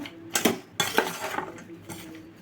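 Okra pieces being mixed into pakora batter in a bowl, giving a few clinks and scrapes of a utensil against the bowl in short bursts, close and moderately loud, with no talking.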